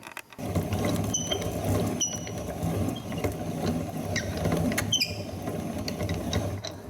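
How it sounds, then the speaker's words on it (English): Two old millstones grind wheat berries into flour, giving a steady, close rattling and grinding churn with ratchet-like clicks and occasional sharp ticks, running continuously with no speech. "now I'm gonna put them through an old-fashioned grinder"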